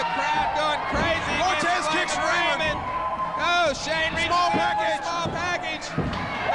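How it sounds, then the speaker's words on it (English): Crowd cheering in a WWE wrestling video game, a loud roaring arena crowd with whoops and yells throughout, overlapping with excited commentary voices. "Cortez, the crowd is going crazy, and there's the bell!"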